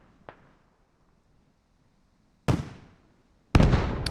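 Gunfire in the military shooter game Squad on the Yehorivka map: a faint crack, then two loud sharp blasts about a second apart, each trailing off in a rumbling echo, with no talk.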